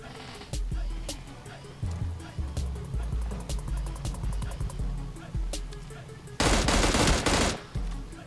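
Rapid automatic gunfire from a submachine gun in PUBG Mobile Lite, sharp repeated bursts with a dense sustained volley near the end, layered over low in-game rumble and someone talking.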